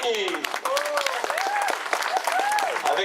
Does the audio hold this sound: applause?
yes